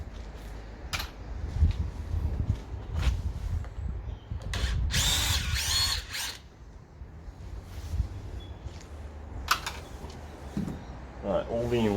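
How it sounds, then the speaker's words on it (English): A power drill backing out self-tapping screws, with short whirring bursts and one longer loud run close by, separated by handling noises and a voice talking in between. "Just unscrew them."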